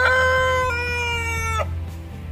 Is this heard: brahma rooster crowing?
yes